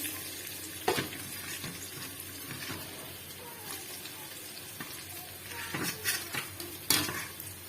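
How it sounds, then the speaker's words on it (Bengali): Onions frying in oil in a pan, a low steady sizzle up close with occasional stirring clatters and scrapes of a utensil against the pan, no one speaking. "পেঁয়াজগুলো ভালো করে ভেজে নেবো লাল ভাব এলে"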